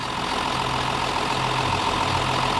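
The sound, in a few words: diesel tractor engine idling after starting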